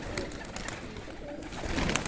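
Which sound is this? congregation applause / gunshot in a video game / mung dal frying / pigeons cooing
pigeons cooing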